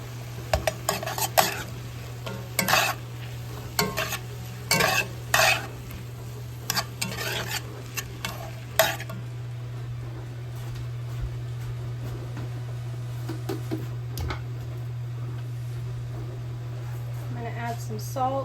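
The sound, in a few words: garlic and olive oil pucks sizzling and stirred in pan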